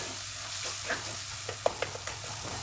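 Tomato masala fries in a pan with a soft steady sizzle, broken by a few light clicks and taps of stirring.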